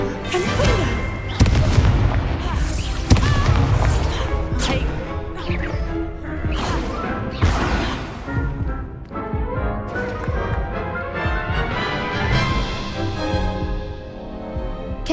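Confringo blasting spell cast in Hogwarts Legacy, a dense run of loud booming blasts and crashes layered with bright magical effects and battle noise, continuous and close throughout.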